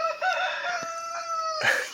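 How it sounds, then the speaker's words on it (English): A rooster crows loudly and close by, one long drawn-out call ending in a sharp rise. "There's the rooster."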